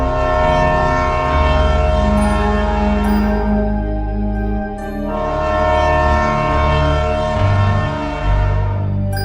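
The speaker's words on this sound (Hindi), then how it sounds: "इनके बगल से भी एक ट्रेन जा रही होती है" Train running alongside on the rails with a loud, steady rumble, sounding a long horn blast twice, close and continuous.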